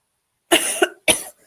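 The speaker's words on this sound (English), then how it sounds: "Apologies if you're hearing me cough." Two sharp coughs sound close by in a quiet room, the first slightly drawn out and the second a short bark.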